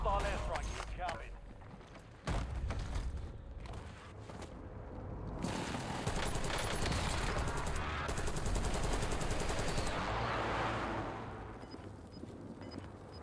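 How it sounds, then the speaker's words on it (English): An airstrike lands in the Call of Duty Warzone game: a loud, sustained rumble of explosions and rattling gunfire rolls on for several seconds, with a voice talking over part of it. "Hostile airstrike incoming."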